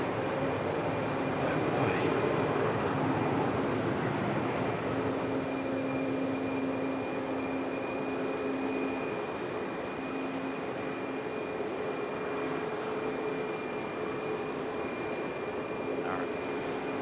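A low pass over Raleigh-Durham International by a plane going around instead of landing, a steady broad engine roar holding level throughout with a faint whine above, fairly distant and continuous.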